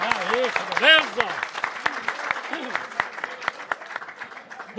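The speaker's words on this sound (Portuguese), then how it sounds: "Uma salva de palmas, aí, que beleza!" Audience applause at an aquatic park show in Brazil, scattered sharp claps rising and thinning under a voice and a brief tonal squeal, fairly close and uneven.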